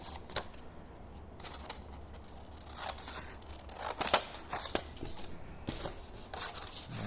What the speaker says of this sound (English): Now I'm going to cut down that line.